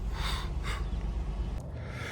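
A couple of quick nasal sniffles close to the microphone over a low, steady rumble of background noise.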